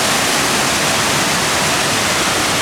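A waterfall roars loudly and steadily at close range, a dense rushing wash of water that never lets up and has no voices over it.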